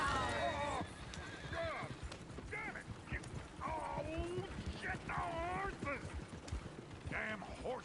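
A horse in a PS4 video game whinnies several times with high, wavering calls over a constant rumble of hooves and background noise, with no clear speech.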